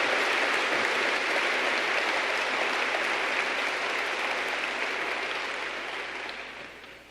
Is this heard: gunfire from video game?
no